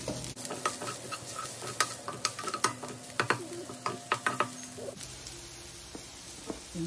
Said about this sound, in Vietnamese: Mình xào cho nó khô một chút đi nha